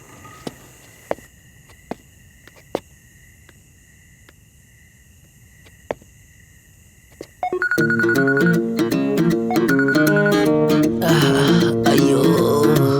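A mobile phone left lying in an unattended room bursts into a loud, melodic ringtone partway through, breaking a quiet stretch of faint ticks and thin insect-like tones and ringing on steadily to the end.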